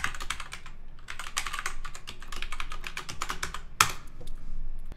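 Rapid, steady typing on a computer keyboard while writing TypeScript test code, with dense clacking keystrokes and a single louder key strike near the end.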